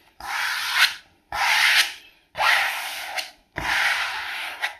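A filling knife is pushed across non-woven wallpaper pasted onto a ceiling, making four long, loud scraping strokes with short pauses between them, with no voices.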